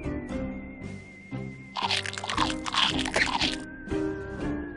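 A cartoon nutcracker cracks open a peanut in the Pajama Sam video game, a cluster of crunching, squishy cracks over a sustained musical backing.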